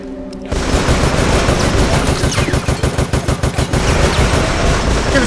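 Enemy gunfire from Resident Evil: Operation Raccoon City erupts as a loud, sustained burst of rapid automatic shots after a brief quiet start, continuing densely for about five seconds.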